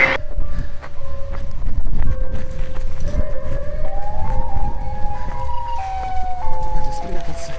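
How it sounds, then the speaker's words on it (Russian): A loud, wailing Siren Head monster siren from a video game rises and falls over a rumbling background, its tones sliding upward and stacking toward the end. "Неужели Ирина превратилась в сиреноголового?"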